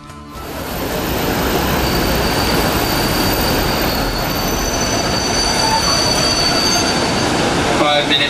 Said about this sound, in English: Due to the steep incline of the Flam Railway, the train moves quite slowly.